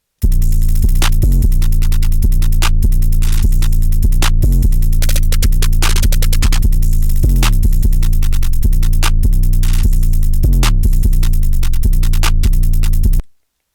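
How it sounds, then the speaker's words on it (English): Full drum loop of an FL Studio beat, with booming, sustained 808 bass hits under crisp hi-hats, snares and fast rolls, dense and loud throughout before stopping abruptly. "here's what the full drums sound like together"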